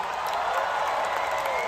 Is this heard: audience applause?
yes